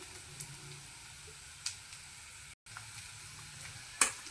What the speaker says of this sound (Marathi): कांदा फ्राय होण्यासाठी थोडेसे तेल ओतून घेऊया.